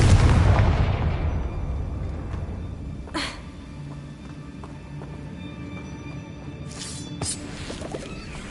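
A Confringo explosive spell goes off in Hogwarts Legacy on PS5, a loud blast at the start that rumbles and decays over several seconds, followed by fainter magical whooshes and sparkles over a low ambient game bed.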